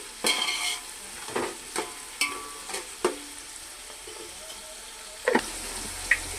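Onions fry with salt in a pan for chicken dum biryani, with a soft, steady sizzle broken by occasional scraping stirs and light metal knocks.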